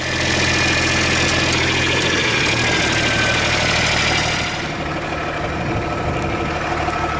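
Classic John Deere tractor engine running on custom blended fuel, a steady loud idle-to-working drone with knocking vibration that settles slightly quieter partway through, heard alone.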